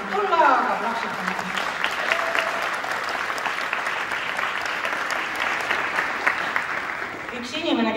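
Audience applause fills a dance gala hall, dense and steady clapping throughout with a voice talking over the start and end.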